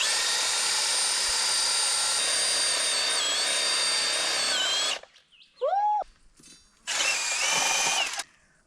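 A power drill bores into rock hard clay soil with a loud, steady whine that stops, then returns in a short burst, with small scraping sounds in between.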